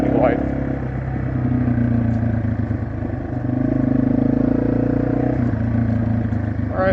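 A Yamaha TW200 motorcycle engine drones steadily at high revs, held close and loud for several seconds with a dip and swell partway through, then fades slightly near the end.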